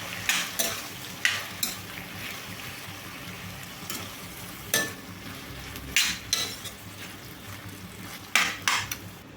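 Finely chopped tomatoes stirred in a sizzling pan, repeated scraping clinks of a spoon against metal at an uneven rhythm over a steady frying hiss, close by.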